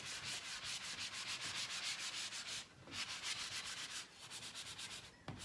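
Electric sander rubbing down the edges of painted furniture during distressing, a steady close abrasive whir running nearly throughout with one short pause and a brief break near the end, no voices.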